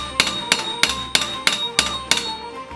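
Steady hammering flattens metal on an anvil during weapon maintenance: seven crisp, ringing strikes at an even rhythm of roughly three per second, close up and loud, each leaving a short metallic ring.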